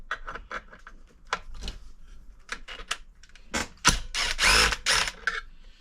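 A ratchet removes parts from a Stihl MS362C chainsaw, making quick bursts of close mechanical clicking with short pauses, then a louder, denser stretch of ratcheting toward the end.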